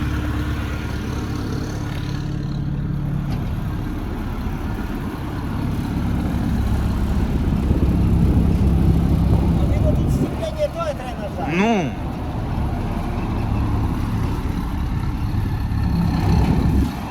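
A Volvo 1130 mini combine harvester's engine runs with a steady low rumble as the machine turns in place, with people talking over it throughout.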